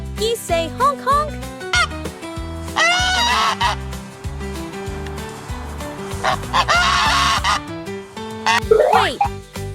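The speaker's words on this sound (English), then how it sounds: "Geese say honk honk." Several loud, nasal goose honks in irregular bursts, close by, in a children's farm-animal sounds segment, with musical tones between the calls.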